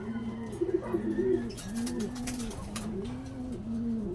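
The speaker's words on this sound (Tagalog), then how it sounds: "Siyempre may umuwing ibon." A pigeon coos close by in repeated soft, rolling phrases, fairly faint against a quiet room, with a few small clicks and rustles scattered in between.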